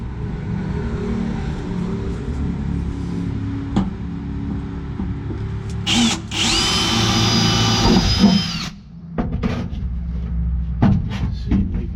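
A power drill bores into the body of a 1971 Chevy Camaro, its high whine rising loud in a sustained burst mid-clip amid clanks and handling noise from the nearby work.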